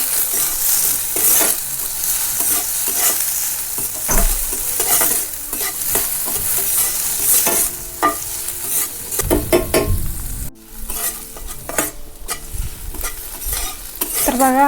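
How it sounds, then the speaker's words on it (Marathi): Onion sautéing in a pan with green chilies, a continuous close sizzle broken by repeated stirring scrapes and occasional clatter, with no talk. "कांदाही परतून घेते"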